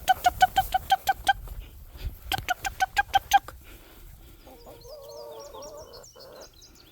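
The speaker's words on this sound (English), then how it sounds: "Hello, chickens." Backyard garden chickens cluck in quick rhythmic bursts of short calls, followed by softer, higher warbling clucks.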